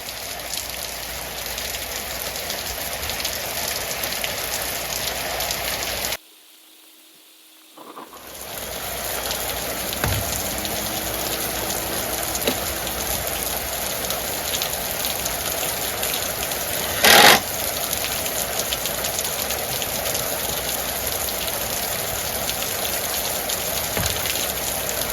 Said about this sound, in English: When the rain stops,